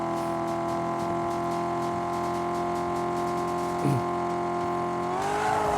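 A level-three car drifting into a corner in a racing game, steady loud engine drone with sustained harmonic whine, a brief tire squeal near the end as the pitch bends upward, no talking.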